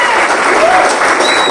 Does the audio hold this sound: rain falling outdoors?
no